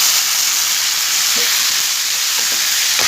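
Carrots tipped into a hot karahi for a dhaba-style mixed vegetable dish, frying with a loud, continuous close sizzle and a few faint clinks of a spoon.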